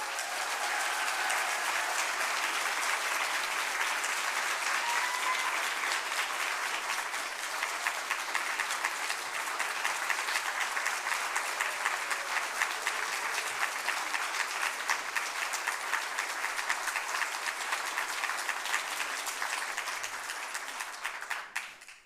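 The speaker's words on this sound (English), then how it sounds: "So let's give him a round of applause." A large audience at an awards ceremony claps in sustained, dense applause that stays loud and even for about twenty seconds before cutting off.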